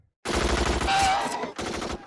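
Loud rapid automatic gunfire in the 2002 film 28 Days Later, starting abruptly after a moment of silence and continuing in close, dense bursts.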